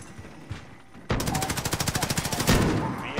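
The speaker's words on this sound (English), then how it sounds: "I'm hearing suppressed gunshots down there." Rapid automatic gunfire in Call of Duty: Modern Warfare Warzone Zombies sounds as a fast, evenly spaced burst of about twenty shots, close and loud, after a quieter stretch of game ambience.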